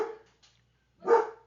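Dog barking nearby indoors, one short bark followed by a pause and a second louder bark, with no one talking.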